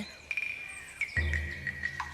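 Small birds at Père Lachaise cemetery give thin, repeated high chirps in a quiet outdoor setting, with a low rumble entering midway.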